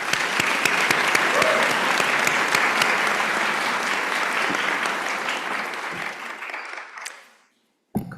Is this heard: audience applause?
yes